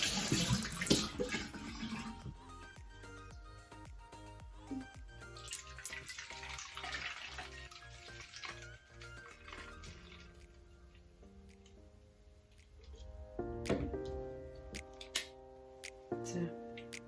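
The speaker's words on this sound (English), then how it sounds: "Just gonna rinse my water bowl." Running water from a tap splashes and trickles as a water bowl is rinsed while rice water is being made for hair care. The sound is soft, close and continuous, with a few brighter splashes and drips toward the end.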